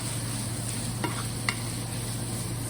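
Salt, pepper and spices being stirred through an empanada filling mixture, giving soft, faint scraping under a steady background hum, with a couple of light clicks and no talking.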